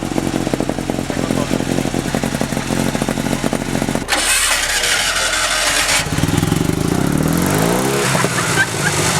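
A loud car engine roars and revs hard, with a sharp gear-like shift midway and rising pitch sweeps, sounding like a motorcycle close by, at Sportdrive Poznań.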